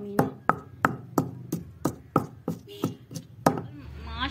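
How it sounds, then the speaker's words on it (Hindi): Garlic and ginger are pounded in a kitchen with about a dozen sharp, steady thuds at an even rhythm, close and loud, ending in a brief scraping rustle. "लहसुन और अदरक कुटा जा रहा है"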